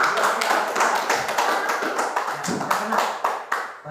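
Children in an elementary classroom clap their hands together in a quick, steady run of sharp claps lasting several seconds, fairly close and loud, with some voices mixed in.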